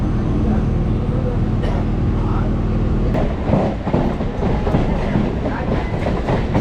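A suburban train rolls into Tambaram railway station, its steady rumble giving way to rattling clatter of wheels over track joints, heard from on board with a voice speaking over it.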